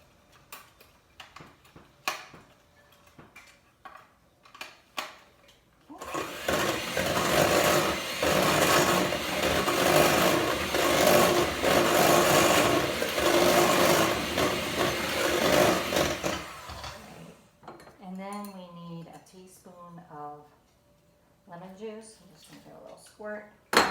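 Electric mixer beaters whir steadily in a bowl of cupcake batter for about eleven seconds, loud and continuous with a gritty buzz, framed by scattered clicks before and a person talking after.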